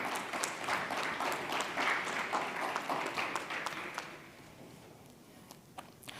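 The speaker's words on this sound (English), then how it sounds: "Can we have a huge round of applause for this lucky winner?" Audience applause for a prize winner at the FBS MENA 2022 event, a dense burst of room-wide clapping that thins and fades toward the end.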